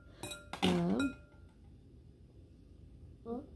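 Dishes clinking in a home kitchen while making pancakes: a few quick bright clinks of bowls and utensils early on, then a quieter clink near the end, with a voice briefly heard between them.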